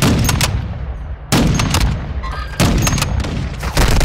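Rapid bursts of video game gunfire in a military shooter, loud, close and sustained, with heavy booming blasts breaking in at about one-second intervals over a constant dense rumble.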